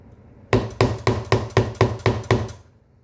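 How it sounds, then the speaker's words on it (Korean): A hammer drives a rivet snap button into a leather wallet: eight sharp, evenly spaced strikes, close and loud, ringing briefly after each blow, with no talking. "이런 식으로 망치질을 해줍니다."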